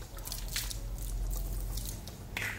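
Water splashing and trickling over a dog during a bath at home, a steady close wet rush with soft squishy splashes and short bursts of pouring.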